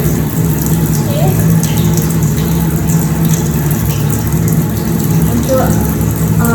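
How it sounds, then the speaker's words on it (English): Tap water runs steadily while hands and fingers are rinsed during a surgical scrub, a loud continuous gush with a low hum beneath and a person talking over it. "we start by rinsing our fingers and then bringing the hand out"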